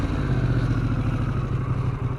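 A 2003 Anniversary Edition Fat Boy motorcycle engine runs with a steady, loud low rumble and rapid rhythmic pulsing throughout, idling close by with no voices.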